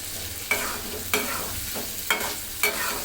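Potato pieces go into a frying pan for a churi shutki dried fish dish, landing with four short clattering stir strokes over a steady sizzle of oil.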